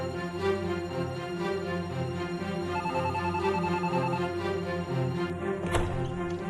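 A telephone rings in a home during a dramatic scene, its repeated electronic trill sitting faintly under dense background music, with a brief sharp thump near the end.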